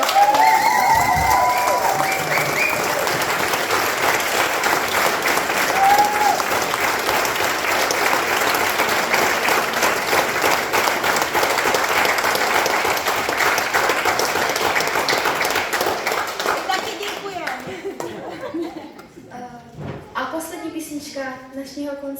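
Large audience applauding loudly and steadily after a Christmas concert in Polkovice, honoring the sound engineer; the dense clapping holds for about seventeen seconds, then thins and fades as a voice begins speaking.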